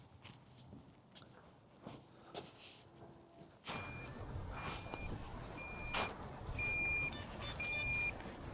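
Faint, thin electronic beeps from a DJI Neo 2 drone's locator repeat at regular intervals over quiet outdoor background with occasional soft footsteps and knocks.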